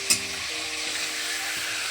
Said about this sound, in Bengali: তো মাথাটাকে আমি ঢেকে রেখে ভাজছি